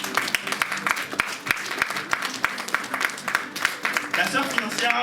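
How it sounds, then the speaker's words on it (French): A church congregation claps in a dense, steady round of applause, close and lively throughout, with a voice speaking over it. "Vous pouvez applaudir le Saint-Esprit qui est en Financia"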